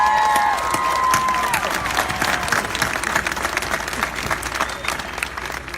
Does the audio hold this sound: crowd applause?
yes